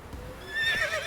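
Roach, a horse in The Witcher 3, gives a short whinny that rises in pitch over a low background rumble and a few soft hoof clops.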